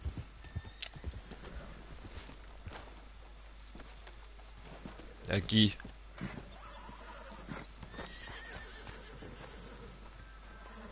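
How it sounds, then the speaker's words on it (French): Horse hooves clip-clop at a walk in Red Dead Redemption 2, with one brief whinny rising midway over quiet game ambience while someone speaks French softly in the background. "hop, je me gare le cheval. Je m'attache le cheval."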